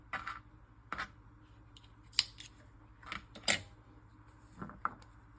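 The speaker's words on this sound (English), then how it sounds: "you're just going to snip off your little bit of excess here" Scissors snip excess yarn while making a beginner amigurumi pig's nose: several sharp, quiet cuts spaced irregularly over a near-silent background.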